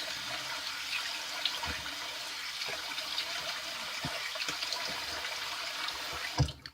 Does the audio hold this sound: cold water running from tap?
yes